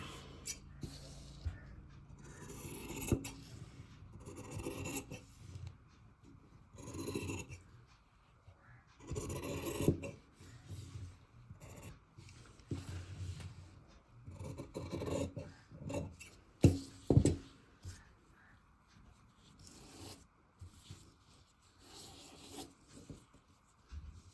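Scissors snip and rasp through fabric while a newborn baby dress is being cut, producing repeated scraping cuts in uneven bursts, close and moderately loud, with brief pauses between strokes.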